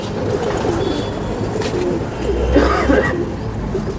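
Pigeons coo softly and repeatedly against a dense, steady outdoor background of rustling noise.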